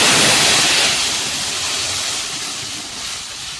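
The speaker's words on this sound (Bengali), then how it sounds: "চলো এবারে সিদ্ধ বিউলির ডাল দিয়ে দিচ্ছি" Boiled urad dal poured into hot oil with turmeric in a pan, a loud rushing hiss and sizzle that starts strong and slowly eases, with no talk.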